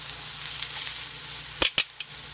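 Zucchini slices frying in oil in a pan give a steady, soft sizzle, with a few sharp clatters near the end as they are moved.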